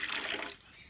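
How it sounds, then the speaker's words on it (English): Water running from a tap as something is rinsed out in a puppy house, a brief rushing splash that cuts off halfway through, leaving quiet. "Let's rinse that out."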